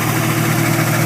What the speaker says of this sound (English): The turbo's fluttering